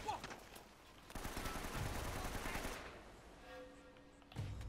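A machine turret gun firing in Uncharted: Drake's Fortune on PS4, rapid rattling bursts of automatic fire over game ambience, with a voice speaking over part of it.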